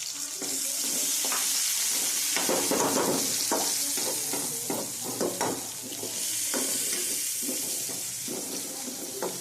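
Tomato sautéing with onion in a pan for an ajwain-leaf bhaji, a constant close sizzle broken by repeated scrapes and stirring strokes.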